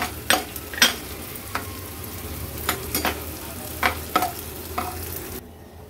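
Edible gum (dink) fried a little at a time in ghee: a steady low sizzle broken by several sharp scraping stirs of a spatula, ending abruptly in near quiet.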